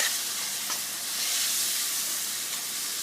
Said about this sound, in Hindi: और साथ ही हमने इसमें जिंजर गार्लिक पेस्ट ऐड कर देना है 4 से 5 टीस्पून, और इसको भी इसी तरह तकरीबन फ्यू सेकंड्स के लिए हमने पकाना है